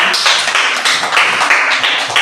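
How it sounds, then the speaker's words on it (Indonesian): A burst of applause from a small class group, brisk clapping close by, lasting a couple of seconds. "tepuk tangan"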